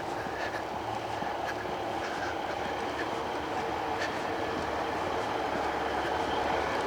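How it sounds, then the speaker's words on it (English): A passenger train pulls out of Lympstone station on the Exmouth line, with a steady low rumble and faint rhythmic wheel clicks heard from a short distance, fairly quiet and unbroken. "So I think the train is just pulling out of the station at Lympstone."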